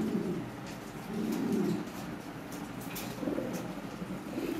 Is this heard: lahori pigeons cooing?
yes